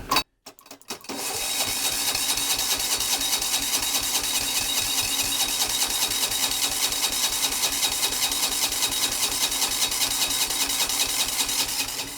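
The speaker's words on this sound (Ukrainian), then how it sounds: "Дим іде, завестися він не хоче." A walk-behind tractor's small engine: after a brief rough cranking burst, it chugs in a steady, fast, loud mechanical beat, close by and with no talk.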